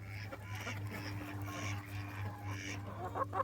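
A very small gold phoenix hen clucking softly near a coop, a run of quiet, irregular clucks over a steady low electrical hum.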